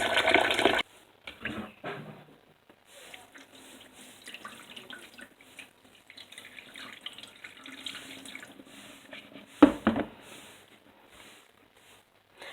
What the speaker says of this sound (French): Alors, vous allez rincer votre riz.